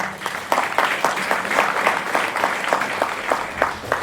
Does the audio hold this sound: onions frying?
no